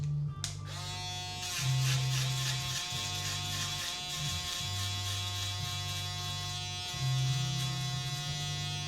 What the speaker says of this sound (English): I like to come in with my shaver.